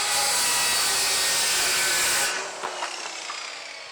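A bandsaw cuts through old recycled skateboard decks, a loud steady broadband whine that holds for about two seconds before stopping abruptly, leaving a quieter fading rumble and a few faint knocks.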